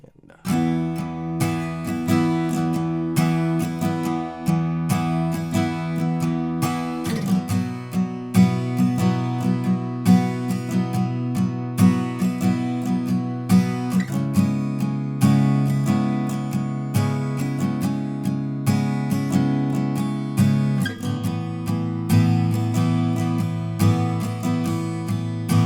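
Acoustic guitar strumming the chorus chord progression of a song, with steady rhythmic strums ringing close and clear and the chords changing about every seven seconds.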